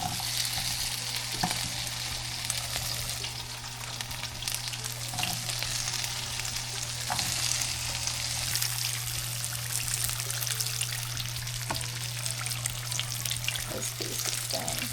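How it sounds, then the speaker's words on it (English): Okra frying in a pan at a beach catch-and-cook, a constant close sizzle with bubbling and a few clinks, over a steady low hum and no voices. "we're gonna throw our okra on our pan here"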